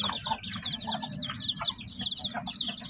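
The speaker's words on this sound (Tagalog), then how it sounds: "yung ating mga pasisiw" A brood of five- or six-day-old chicks peeps constantly, many high, shrill overlapping cheeps with a low rustling and clucking beneath, close and busy throughout.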